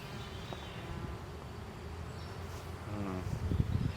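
Honey bees in an open beehive make a dense, steady buzz during a hive inspection. The drone grows slightly louder and closer toward the end, with faint rustling.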